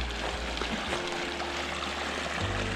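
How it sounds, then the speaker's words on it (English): A waterfall and stream on Custer Road in Idaho rush with a steady, broad hiss, constant and moderately faint, with no voices. "We have a waterfall."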